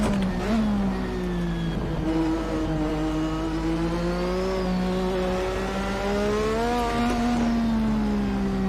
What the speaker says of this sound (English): Pay close attention to the noise of the turbo as well.